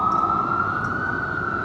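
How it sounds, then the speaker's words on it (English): Steady fire engine siren wailing on a Midtown Manhattan street, a loud sustained tone holding continuously over dense city traffic noise, with no talk. "firefighters, the sirens."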